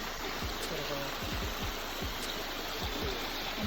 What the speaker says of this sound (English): Come down to a nice little cascading waterfall.